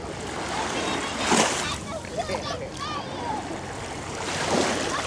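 Sea waves break on a stone-protected beach in Limassol, Cyprus, a steady wash of surf with swells peaking twice, while distant voices talk faintly underneath.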